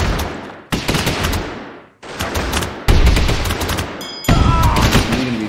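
Rifle fire in the strategy game Airships: Conquer the Skies comes as dense, loud overlapping volleys that restart in abrupt waves, with a whistling streak near the end.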